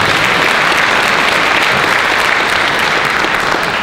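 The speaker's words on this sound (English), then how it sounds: "Can we give them a round of applause?" Dense, steady applause from a large conference keynote audience fills the whole stretch, loud and continuous without a break.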